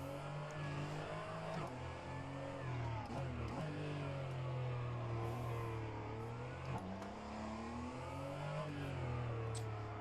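Porsche 718 GT4 engine in an rFactor 2 race at Monaco, revving hard and continuously with rising and falling pitch through gear changes, loud and close throughout with no talk.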